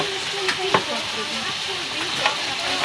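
Tocino fries in cooking oil after first being boiled. It sizzles with a steady, loud hiss, and small pops and crackles rise above it now and then.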